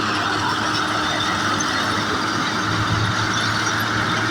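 A Shaktiman mulcher working through a sugarcane field gives a loud, continuous mechanical roar with a steady drone and rattling, unbroken throughout.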